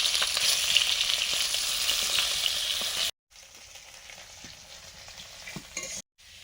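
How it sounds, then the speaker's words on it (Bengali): Rohu fish pieces fry in a wok over a home stove, a dense, steady sizzle that fills the first half, then cuts out and returns quieter and thinner with occasional small spatters, close and with no voices. "ভাত বসিয়ে আর একদিকে কড়াই বসিয়েছি, রুই মাছগুলো ভাজছি।"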